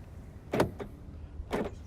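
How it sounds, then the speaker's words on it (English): Power door locks on a Cadillac Allante actuate twice, each a short mechanical clunk with a brief whirr, close by and about a second apart, with no talk. "one of my favorite parts about the car is watch the door unlock and lock function"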